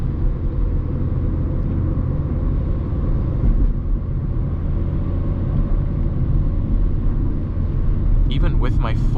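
A 2004 Acura EL engine drones loudly and steadily, its low rumble building as it pulls, with a brief burst of chatter near the end.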